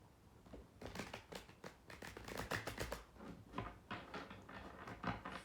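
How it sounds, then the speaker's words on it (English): Tarot cards being shuffled by hand, a run of crisp riffling flicks and papery slaps in an uneven rhythm, close and fairly quiet with no talking. "One more shuffle here."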